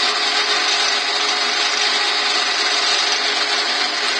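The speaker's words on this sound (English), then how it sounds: "And now the sanding sealer has dried, I need to cut it back with some very fine wire wool." Very fine wire wool rubs steadily against dried sanding sealer on a wooden bowl spinning on a lathe, a continuous loud hiss layered over the motor's hum with no pauses.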